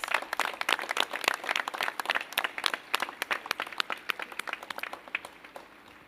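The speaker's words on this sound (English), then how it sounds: "Another round of applause, please." A crowd applauds, dense clapping that gradually thins and fades toward the end.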